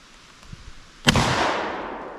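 A shotgun loaded with tiny shells fires once at a target in the sky, a single loud, sharp bang that rolls off into a long decaying tail, preceded by faint quiet handling sounds.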